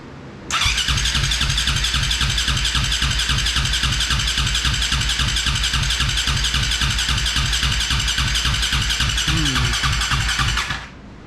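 A KTM engine fitted in a Honda TRX450R quad fires up with the choke on and runs at a fast, steady, loud idle for about ten seconds before cutting off abruptly.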